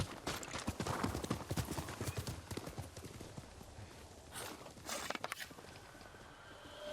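Horse hooves clip-clop in Ghost of Tsushima, a quick run of close, hard hoofbeats that slows and then thins into scattered steps, with a faint whinny and a few louder thuds near the end.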